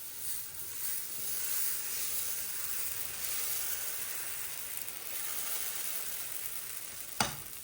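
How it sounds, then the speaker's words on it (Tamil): Dosa batter sizzling loudly and steadily on a hot pan greased with sesame oil, a continuous bright hiss with one sharp clatter near the end. "சட்டி நல்லா ஹீட் ஆகிட்டு இப்போ தோசை வச்சுக்குவேன்"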